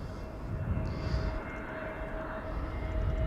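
EasyJet Airbus A320neo airliner arriving at Amsterdam Schiphol from London Stansted on a sunny day, a soft, distant steady jet rumble with a thin whine, slowly swelling toward the end.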